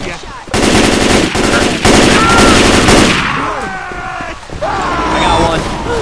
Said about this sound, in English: I did not mean to shoot you. You're just in my line of fire as I was pulling the trigger.